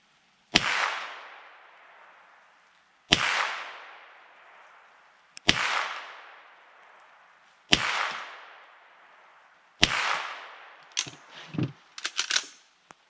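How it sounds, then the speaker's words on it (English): Five gunshots fired at a target, each a sharp close crack with a decaying echo, spaced roughly two to three seconds apart, followed by brief clinks and handling noises. "And we will shoot."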